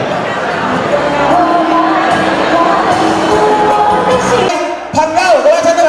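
Wedding banquet guests clap and cheer together, a loud sustained wash of crowd noise with shouts and whoops that eases briefly toward the end before rising again.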